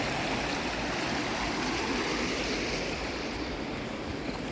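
Loud, steady rush of a flooded, overflowing river pushing hard enough to shake tree branches, a continuous broadband roar with no pauses and no voices.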